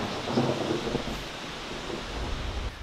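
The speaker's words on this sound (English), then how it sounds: "it is now starting to come down rain" A low rumble of thunder rolls through as rain begins to fall, with a soft, steady patter of drops on surfaces close by.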